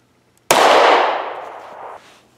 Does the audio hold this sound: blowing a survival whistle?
no